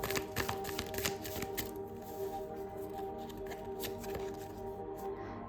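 Tarot cards being shuffled and drawn from a deck, a steady papery riffle and soft flicking close by, with sharper taps early on and no talking.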